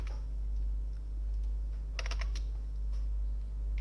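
Programming code is typed on a computer keyboard in short bursts of close, crisp key clicks over a steady low hum.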